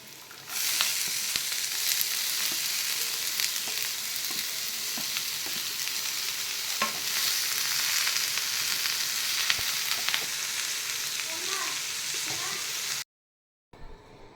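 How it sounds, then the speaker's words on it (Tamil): Steady, loud sizzling and frying of boiled cabbage and chana dal in a pan, with occasional stirring clatter, continuing for about thirteen seconds before cutting to near silence. "இப்போ வேக வச்ச கோசையும் கடலப்பருப்பையும் போடுறேன்"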